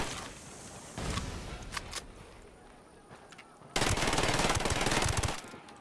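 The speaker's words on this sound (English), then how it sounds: "As I'm running through like machine gun fire." Machine gun fire in the video game Ghost Recon Wildlands: short bursts of rapid gunfire, then a longer, louder sustained burst near the end, with scattered single shots between.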